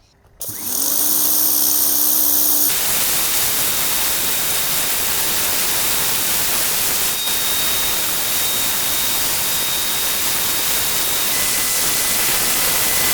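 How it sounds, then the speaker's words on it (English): A pressure washer runs loud and continuous as a Kincrome Quick Connect surface cleaner or turbo nozzle sprays a concrete patio, giving a steady hissing roar with a brief start-up at the beginning. "we'll do our turbo nozzle along here and then we'll go right next to it with our new patio cleaner"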